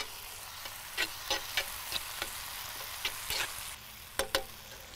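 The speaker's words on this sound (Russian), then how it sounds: "Я добавляю прямо вот сюда этот соус. и все перемешиваю." Cod and vegetables frying in a pan over grill coals, a steady sizzle with scattered soft scraping and clinking as a sauce is stirred through, several sharper knocks near the end.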